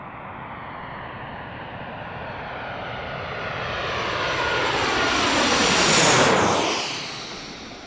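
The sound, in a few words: airplane landing low overhead at Washington DCA airport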